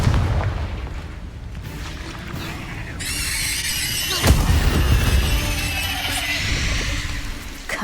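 The Confringo explosive spell in Hogwarts Legacy, heard as a sharp, heavy blast in the middle of a noisy battle, with squealing, crackling magic effects and rumbling game sounds running before and after it.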